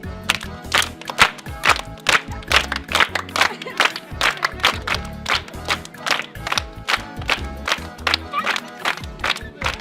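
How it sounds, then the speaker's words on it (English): Crowd clapping along in a steady rhythmic beat to a comedic dance, loud and close, with occasional shouts mixed in. "You will begin to clap."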